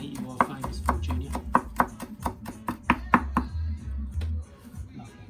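A kitchen knife chops food on a board with a firm squashing and slicing technique, a quick run of sharp, close knocks in an uneven rhythm that stops near the end, with faint talk underneath.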